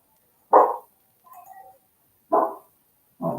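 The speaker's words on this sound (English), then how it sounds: "Oh, my dog's barking." A dog barks indoors at home, three separate single barks spaced over a few seconds with a soft whimpering sound between them, moderately close.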